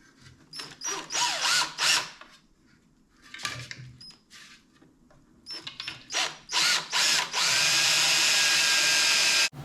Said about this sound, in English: Go ahead and drill a 3/16 hole from a little bolt there.